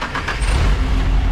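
Nissan S15 fitted with a big turbo setup, its engine starting and settling into a loud, deep rumble that holds steady and close throughout, with no talk over it.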